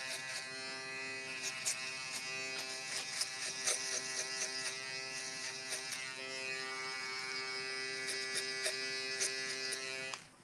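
An electric shaver buzzes steadily during a haircut, close and continuous, with small ticks and changes in tone as it is tapped gently against the hair, before it cuts off at the end.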